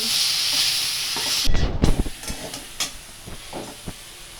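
Mango chutney sweetened with sugar simmers in a pan under a bright steamy hiss, broken by close scraping stirring strokes and knocks of the spoon in irregular bursts.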